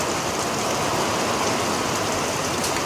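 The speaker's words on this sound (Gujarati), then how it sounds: "વરસાદ પડ્યો છે ફૂલ પુષ્કળ પ્રમાણમાં" Heavy monsoon rain pours steadily onto farm fields in Amreli, a dense, even hiss of water that stays loud and unbroken throughout with no voices.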